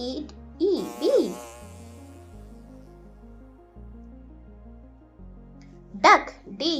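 A single bee buzzes in short bursts, rising and falling, over a steady background music bed; no talk is heard.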